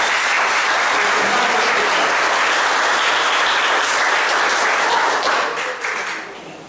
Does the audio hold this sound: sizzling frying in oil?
no